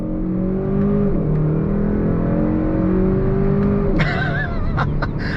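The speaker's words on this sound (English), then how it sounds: "coming around this turn here, on throttle" A 2022 Kia K5 GT sport sedan accelerating on throttle through a turn, its engine droning loud and steady from inside the cabin, then a quick upshift with a brief change in pitch near the end.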